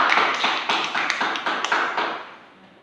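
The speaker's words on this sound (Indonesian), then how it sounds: "Aplaus untuk teman kita." A classroom group applauds a classmate, a short burst of close, dense clapping that fades out near the end.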